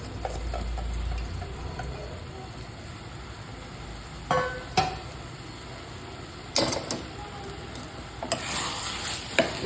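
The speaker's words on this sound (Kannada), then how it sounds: "ಇದನ್ನೆಲ್ಲ ವಾಸಿ ಚೆನ್ನಾಗಿ ತಿರ್ಸ್ಕೊಂಬರೋಣ" Rice being stirred with masala in a pot on a high flame for a village-style veg biryani sizzles steadily, with a spoon scraping and clanking against the metal in several distinct, close strokes.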